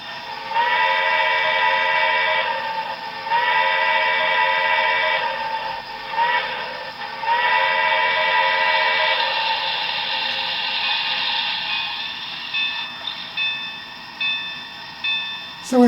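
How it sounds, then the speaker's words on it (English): An HO scale model steam locomotive, a hybrid with a die-cast body, sounding its whistle in several long, bright, sustained blasts with short gaps, close and clear, ending in a brief final burst. "So it has a very nice distinctive whistle"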